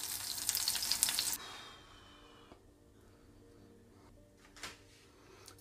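Salmon fillets sizzle and fry loudly in a pan for the first second and a half, then the hiss drops to a faint, steady simmer with an occasional soft clink of a utensil.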